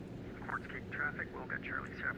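A Thranda Kodiak bush plane's engine at takeoff power roars as a steady, loud broadband drone, with a person talking over it throughout.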